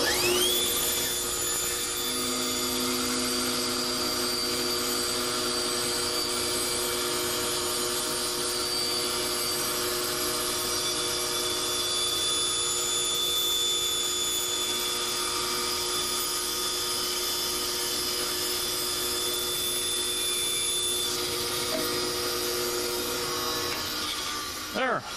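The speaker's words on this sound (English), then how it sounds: "white pine, which I'm cutting out right now. I'm using a bandsaw" An electric-motor-driven bandsaw cuts a block of white pine for a carved puffin decoy, giving a loud, steady whine with a high ringing tone that holds unbroken for about twenty-five seconds and then eases off at the very end.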